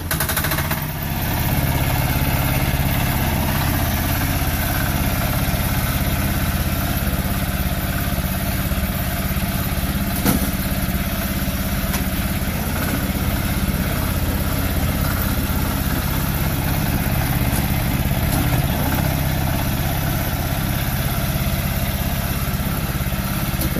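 A small homemade tractor built for plowing a yard idles steadily and close by for the whole stretch, a continuous mechanical hum with a faint high whine above it, with no voices.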